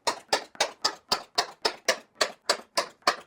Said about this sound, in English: I'm going to punch all these holes with my center punch